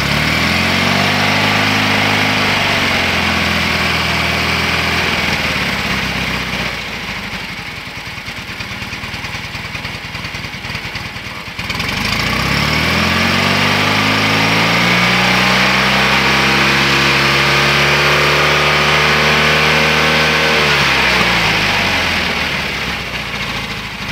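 A Fiat 500 (126) engine with a carburettor idles a little high, then dips quieter before revving up and holding higher, its pitch rising and falling, loud and close with no talk over it.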